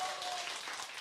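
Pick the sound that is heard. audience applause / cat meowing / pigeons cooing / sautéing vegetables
audience applause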